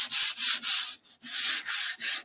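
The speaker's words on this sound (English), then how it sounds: "I'm sorry about the sanding" Rhythmic sanding strokes, close and scratchy, repeat in quick back-and-forth bursts with brief pauses between them, no voices.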